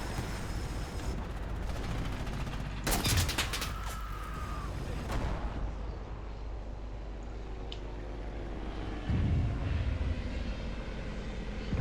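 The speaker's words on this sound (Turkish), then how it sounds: "Uçak bir daha dalış yaptığında indireceğim ben onu." A warplane drones overhead while rifle shots crack in the World War II shooter Enlisted, set in Normandy, with a sharp burst of gunfire and a loud roar, and a player's voice talking over parts of it.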